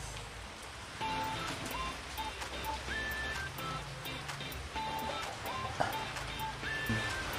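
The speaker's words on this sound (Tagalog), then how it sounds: "lumakas na naman ang ulan eh" Continuous hiss of heavy rain pattering on surfaces, fairly soft and steady, with faint scattered tones in the background.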